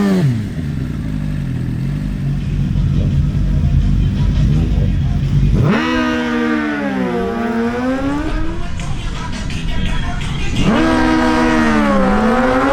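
Suzuki GSX-R1000 drag-racing motorcycles roar loudly, engines rising through rapid upshifts in repeated climbing whines, with a second bike launching near the end over a busy crowd and commentator's voice.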